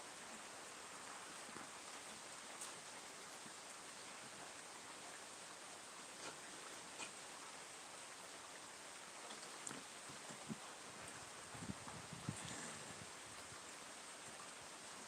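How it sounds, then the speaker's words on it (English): Steady, soft hiss of rain falling outdoors, continuous and fairly faint, with occasional light patters and drips. "it's raining out here too. Raining cats and dogs here."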